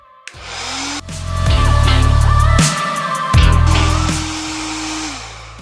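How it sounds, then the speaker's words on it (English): A heat gun blows loud and steady, with a low motor hum and airy whoosh, cutting out briefly midway then starting again while heating a solder sleeve on the ABS sensor wires of a B5 Passat. "when I heat that with the heat gun"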